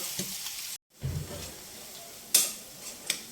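Onions fry in a pan with a bright, steady sizzle, broken by a brief dropout and a few sharp crackles and spoon scrapes up close.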